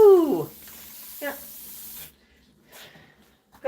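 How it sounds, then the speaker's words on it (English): A spray bottle spritzes water onto a pet bird, giving a few short hissing bursts spaced apart, close and fairly soft, with quiet voices in the background. "we'll just do another spray here"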